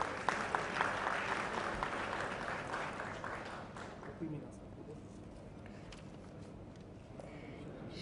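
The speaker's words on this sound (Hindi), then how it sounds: "तालियों से स्वागत करें।" Applause from a crowd at a government conference inauguration, loud and dense at first, then thinning to scattered claps and background murmur.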